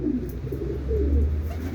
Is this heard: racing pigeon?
yes